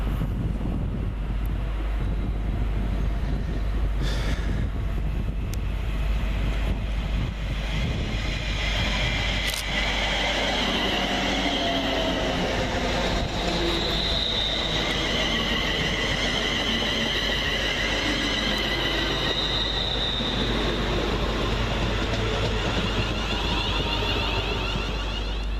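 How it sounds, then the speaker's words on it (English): Class 350 electric multiple units, 350-114 and 350-267, arriving at Watford Junction on a London Euston to Milton Keynes Central service: a steady broad rumble and hiss with wind buffeting, rising slightly as the trains draw in, no voices. "Next in, 350-114 and 350-267, working 1210 London Northwestern Railway service from London Euston to Milton Keynes"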